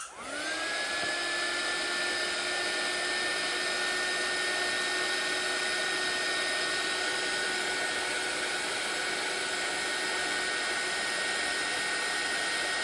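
A hair dryer blows continuously and fairly loudly with a steady airy roar and a high whine, running without pause throughout.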